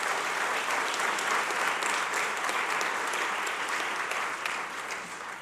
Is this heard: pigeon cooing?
no